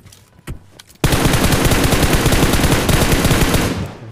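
Automatic rifle fire in a battle royale shooting game: after a couple of isolated shots, a sustained rapid burst of gunfire rattles on loudly for about three seconds before tailing off.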